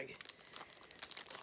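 Small plastic bag crinkling and rustling close up in short irregular bursts as it is handled, fairly faint, with a voice speaking briefly.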